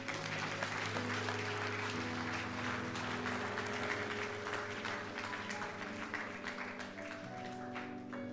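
Church congregation applauding during a French-language worship service, steady sustained clapping filling the room with a low music tone underneath, no voices standing out.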